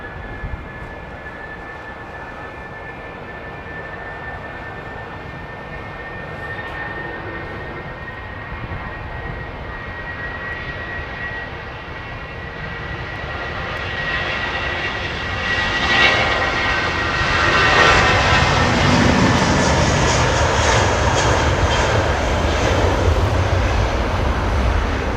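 Airbus A220 jet engines roar in a long, steady drone that builds noticeably louder toward the end, an airliner powering up close by with no talking over it.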